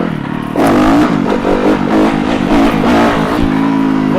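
A Yamaha YZF 250 dirt bike revs hard for a wheelie, the engine note climbing from idle into a loud, close, wavering high-rev whine that holds for several seconds.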